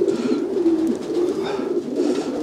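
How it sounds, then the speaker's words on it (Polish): A racing pigeon coos up close in a loft, with repeated low throaty coos rolling one into the next and faint rustling and other birds behind. "to jest taki jeden właśnie z wybitniejszych gołębi tutaj"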